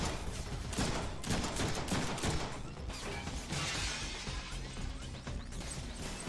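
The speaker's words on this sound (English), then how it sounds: "Shooting me from every direction." Enemy gunfire in the 2013 Deadpool video game, a dense, continuous rattle of shots and crashing impacts coming from all around, loud and busy throughout.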